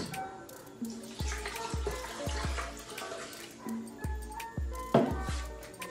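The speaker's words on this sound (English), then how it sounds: "Then I'm gonna add some water, which is this amount." Water pours from a container into a juice blender while carrot and starfruit juice is being made, a steady splashing stream with a few low thuds, heard up close with no talking.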